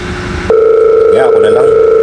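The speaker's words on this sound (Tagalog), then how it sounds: "yung telepono nag-ring" An office telephone gives off a loud, steady electronic tone that starts abruptly about half a second in and holds without a break until the end.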